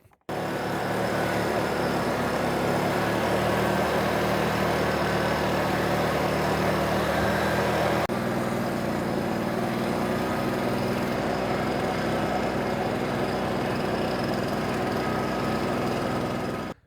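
A small motorized 3.4 hp ROTAKT 3WF-600 mist blower drones steadily and loudly without pause, its engine pitch shifting slightly partway through.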